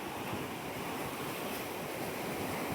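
Big sea waves surge and crash in a continuous loud roar with wind, no voices over it, from stormy rough seas where anglers are fishing.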